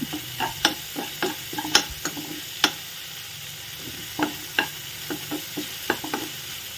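Garlic and curry leaves fry in a hot pan, the oil sizzling steadily while a spoon scrapes and stirs in repeated sharp clatters and scrapes, close and fairly loud.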